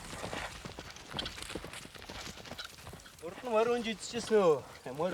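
Horse hooves clip-clop at an unhurried pace while people talk nearby, a voice rising clearly toward the end.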